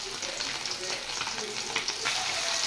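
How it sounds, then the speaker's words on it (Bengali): Fish fry in hot oil in a wok with a loud, steady, crackling sizzle that runs throughout, up close and without talk. "এবার আমি মাছগুলো ফ্রাই করে নেব।"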